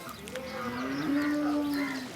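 Cattle in India give a single drawn-out moo that rises and holds steady before fading, loud and close over faint background noise.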